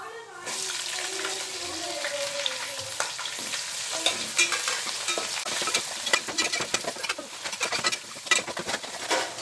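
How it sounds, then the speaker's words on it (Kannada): Onion and curry leaves fry in hot oil for vangibath, a steady close sizzle broken by sharp, irregular clicks and scrapes from stirring that grow busier toward the end. "ಅಲ್ಲಿ ತನಕ ಎಣ್ಣೆನಲ್ಲಿ ಫ್ರೈ ಆಗಲಿ ಈರುಳ್ಳಿ"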